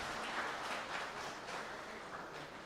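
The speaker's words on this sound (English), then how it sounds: "I request all to give a big round of applause" An audience at an inaugural finance seminar gives a round of applause, steady crowd clapping that is faint and distant and continues evenly throughout, with no voices over it.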